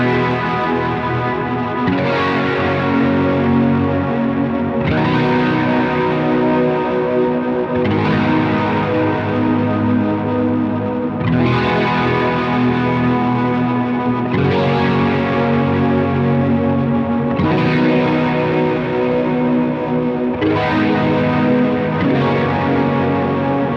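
Electric guitar run through a Helix Stadium wash snapshot, chords swelling into a thick, continuous ambient reverb bed with long sustained decays, loud and steady with no talking.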